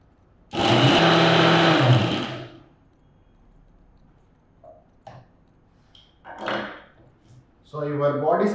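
A kitchen blender whirs loudly for about one and a half seconds, grinding tomato and orange peel into a body scrub. Scattered clicks and handling knocks follow, and then a person starts talking.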